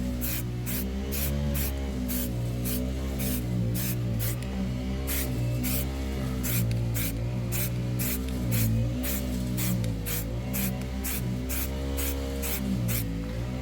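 Gloss black paint is sprayed onto VW fog light grilles outdoors in a light breeze, a steady continuous hiss broken by rapid rhythmic puffs as the nozzle pulses in short passes.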